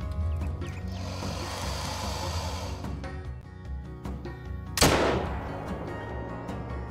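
Single rifle shot at an albino animal in the hunting game Call of the Wild, one sharp loud crack midway over a continuous background of ambient game sound and music.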